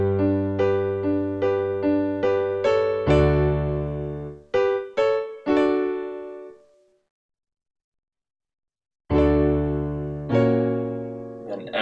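Piano plays a chord progression: a run of rhythmic repeated chords, then fuller sustained chords. A few seconds of silence follow before more chords return, clear and up close with no talking.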